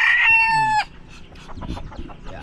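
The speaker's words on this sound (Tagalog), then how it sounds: "ayan din yung mga manok" A rooster crows loudly and close by in a single long call, then chickens cluck softly in the background of a rural provincial yard after rain.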